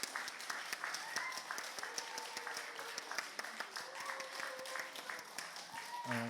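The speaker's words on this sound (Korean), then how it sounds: "이렇게 박수로 우리 감사함으로 축복함으로 우리 박수 한번 해드리겠습니다" A congregation at a Sunday church service applauds, with dense, steady clapping that continues throughout and ends abruptly.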